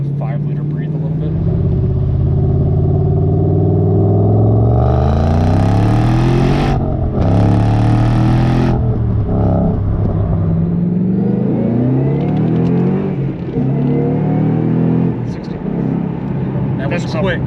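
A yellow 2013 Ford Mustang Saleen S302 with a 625 hp supercharged 5.0L V8 accelerates hard, its engine note climbing through loud rising sweeps with gear changes between pulls, heard from inside the car while people talk.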